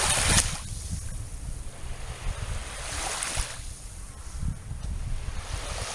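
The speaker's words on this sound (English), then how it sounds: "You can hear the water lapping in here." Gentle waves wash onto the shore in slow surges, rising and fading with a soft hiss, with wind rumbling against the microphone.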